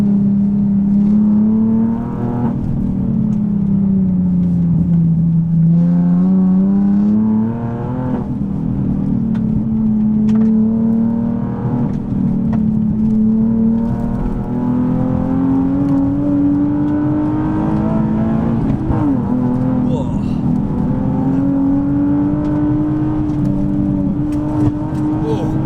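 Nissan 370Z Nismo engine on British roads, a loud sustained drone that rises and falls as the car accelerates and revs, continuous through the whole stretch, with people talking over it at times.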